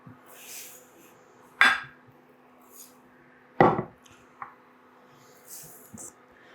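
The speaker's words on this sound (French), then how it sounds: "Puis, on va ajouter à ça notre riz sauvage" Dry wild rice and almonds go into a cooking pot in a kitchen. Two sharp, loud rattling clatters land a couple of seconds apart, separated by quieter clinks and small knocks against the pot, with no talk over them.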